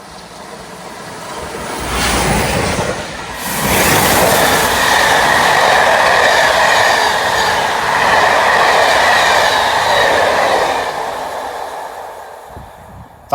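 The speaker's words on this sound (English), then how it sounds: "That was the one-off Standard Class 8 71 Treble O Duke of Gloucester passing through Exton earlier this month" An OO gauge model of the Standard Class 8 steam locomotive 71000 Duke of Gloucester approaches and thunders past nearby on a model railway layout, a loud sustained roar of wheels and rattling carriages that fades as it moves away.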